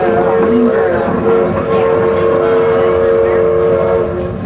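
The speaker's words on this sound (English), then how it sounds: "Now just watch the train leave." Durango and Silverton railroad train leaving the station, a loud steady whistle tone over rumbling rail noise, close by, with faint voices in the background.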